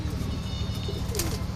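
A ringed pigeon in a loft coos in close, low, rhythmic pulses that repeat steadily throughout, fairly quiet and with no talking over it.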